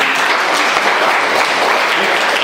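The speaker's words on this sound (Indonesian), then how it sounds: "Tepuk tangan buat dia" Loud, dense applause from a church congregation at a Sunday service, continuous clapping filling the short stretch.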